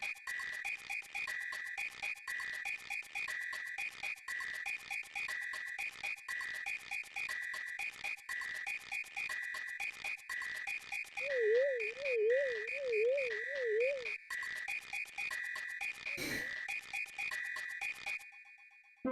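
Frogfucius, the wise old frog character in Super Mario RPG, heard as a repeating electronic croaking chirp over a steady tone, with a warbling wobble in the middle and a sharp burst near the end.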